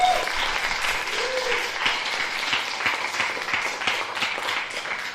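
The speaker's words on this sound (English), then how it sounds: "Let's give ourselves a clap." A conference audience gives itself a round of applause, a dense, sustained burst of many hands clapping that stays fairly loud for about five seconds, with a brief voice near the start.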